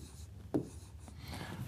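A pen writes a date onto a paper application form: soft, close scratching strokes with one brief tap partway through, quiet and with no speech.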